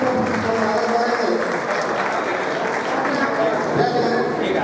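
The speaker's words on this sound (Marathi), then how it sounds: "या ठिकाणी सर्वांनी टाळ्या वाजवून स्वागत करायचं." An audience at a community felicitation gathering gives a student a dense, sustained round of clapping, loud and unbroken throughout, with voices mixed in.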